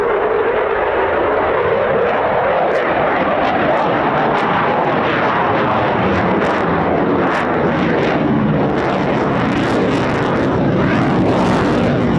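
A Eurofighter Typhoon FGR4 jet takes off at RAF Coningsby, a loud continuous engine roar that swells and rushes across the full span with broadband rumble and hiss, no voices.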